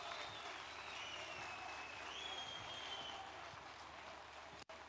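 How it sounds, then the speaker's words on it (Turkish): Audience applause breaks out at the unveiling of the TOGG electric car in Turkey, a steady, dense clapping from a large crowd that holds evenly for several seconds before fading slightly. "Büyük alkışlarla lütfen."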